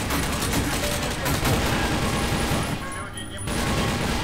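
Rapid bursts of gunfire from the video game TimeShift, dense volleys of shots that fill the scene and briefly thin out before resuming, with someone talking over them.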